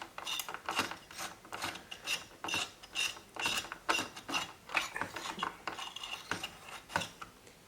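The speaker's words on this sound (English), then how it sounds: "Now you will remove the screws in a diagonal pattern," Rapid clicking and ratcheting of a screwdriver backing screws out of a Dell OptiPlex 990 small-form-factor desktop case, close and fairly quiet, in uneven bursts of ticks with no talking.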